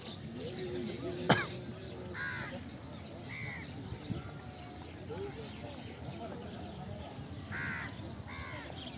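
Several crows caw in short bursts from a nearby tree by Fewa Lake, Pokhara, with outdoor background noise and a person talking underneath.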